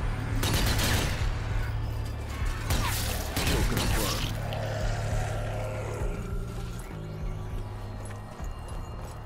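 Zombie Army 4 gunfire and weapon reloads during the Meat Locker chapter: sharp crashing shots and mechanical clatter in the first few seconds, then a rumbling, steady game ambience as the action dies down.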